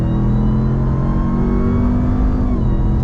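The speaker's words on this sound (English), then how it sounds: "Nice shifts from the Torque Flight 8-speed automatic" A 2021 Ram TRX pickup with a Torque Flight 8-speed automatic and off-road tires accelerates hard on pavement, its engine roaring loud and close as the pitch climbs steadily, then dips at a gear shift near the end.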